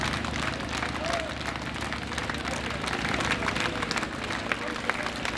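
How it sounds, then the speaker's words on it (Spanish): A crowd applauds as the funeral procession of prosecutor Alberto Nisman sets off in Buenos Aires: sustained, dense clapping from many people outdoors, continuous for the whole stretch, with voices mixed in. "Con estos aplausos comenzó el cortejo fúnebre de Alberto Nisman."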